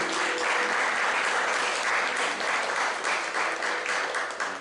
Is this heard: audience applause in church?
yes